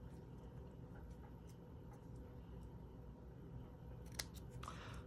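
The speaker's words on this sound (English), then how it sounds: "It's easier to trim the white one to match." Scissors trim a piece of white cardstock for a handmade card. A few quiet crisp snips come near the end over a faint steady background hum.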